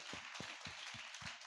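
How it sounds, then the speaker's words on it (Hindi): A congregation at a youth prayer meeting claps in a steady rhythm, six or so even claps over a continuous crowd wash, moderately faint and without talk. "आइए ताली बजाएं प्रभु यीशु"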